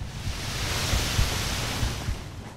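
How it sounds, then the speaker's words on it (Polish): A big explosion in the video game Darksiders, heard as a dense roaring blast of noise with a deep rumbling low end that stays loud and sustained throughout without fading. "A teraz wybuch."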